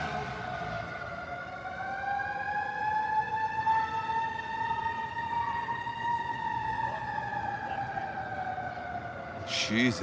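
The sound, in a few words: emergency vehicle sirens passing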